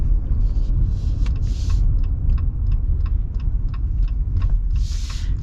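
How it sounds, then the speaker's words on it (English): Turn signal in a 2025 Jeep Gladiator Mojave X ticks in a steady, even rhythm over a low engine rumble inside the cab, each click a sharp snap, with a couple of brief rustles. "Jeep's turn signal sound is very unique. It's kind of like a clunky snap."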